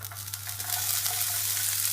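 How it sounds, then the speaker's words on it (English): Close, steady sizzling of onion and garlic frying in a hot pan, a bright crackling hiss over a low hum, with occasional stirring. "There it is, that nice sizzle. That's the onion and the garlic"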